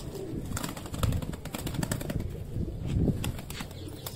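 Pigeons kept in a coop coo close by in soft, low, repeated pulses, with a faint flutter of wings mixed in and no talking.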